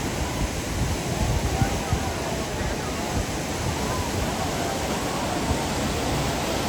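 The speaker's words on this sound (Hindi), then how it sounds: "ये अलकनंदा नदी है जो इतनी तेज बहाव में यहाँ पर बहती है।" The fast-flowing Alaknanda river at Badrinath rushes in a dense, steady broadband roar throughout, loud and unbroken like a torrent.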